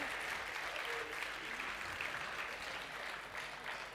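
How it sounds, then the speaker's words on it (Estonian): An audience at the MURG Playbox 2024 show applauds, dense continuous clapping from a large crowd that stays loud and even from start to finish. "Tehke endale üks suur aplaus"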